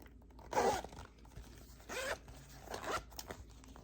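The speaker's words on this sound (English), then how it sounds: "It zips up," Zipper on a small canvas-lined sock project bag being zipped in three short, quiet strokes, each a brief rasping burst separated by pauses.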